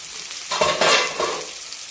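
Fish frying in oil in a covered pan as the lid comes off, a short burst of loud spattering sizzle that swells and then settles back to a steady fry.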